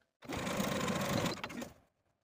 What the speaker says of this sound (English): Now we're going to take this pocket back to our machine and edge stitch close to the bottom of that top fold of our pocket